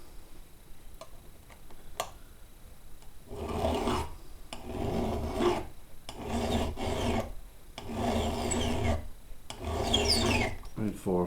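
A hand file sharpens the teeth of a chainsaw chain in a run of distinct rasping strokes, each a close, gritty scrape separated by short pauses, with a few light ticks and taps before the filing begins.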